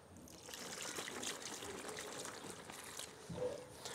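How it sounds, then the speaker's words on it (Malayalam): Rice starch water poured onto wet fallen leaves packed in a sack for homemade compost, a soft steady trickle and dribble of liquid running for several seconds, moderately close, with no talking. "അപ്പോൾ ഇനി ബാക്കി കുറച്ചും കൂടെ നമുക്ക് കഞ്ഞിവെള്ളം ഒഴിച്ചു കൊടുക്കാം."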